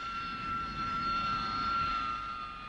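Harrier jump jet engine roaring steadily, a continuous broadband jet rumble with a high whine running through it, sustained at an even, fairly loud level without a break.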